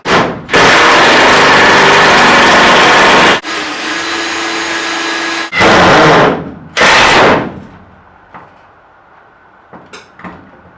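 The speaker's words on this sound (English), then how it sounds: "I'm gonna start by just screwing this down to the frame" Power screwdriver driving screws to fix a fan mount onto a camper truck frame, several loud sustained whirring bursts separated by short pauses, ending in quieter scattered clicks and handling noise.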